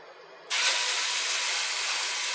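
Veal burger patties land in a hot cast iron skillet, and after a brief quiet moment a loud, steady sizzle suddenly bursts up and holds evenly to the end.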